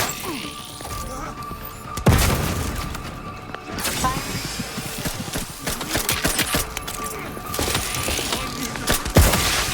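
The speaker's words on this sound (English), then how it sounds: "Enough with the grenades." Grenade explosions in the video game The Outer Worlds 2: a sharp blast near the start and another near the end, with clattering impacts, mechanical rattles and debris in between, loud and close over a busy background.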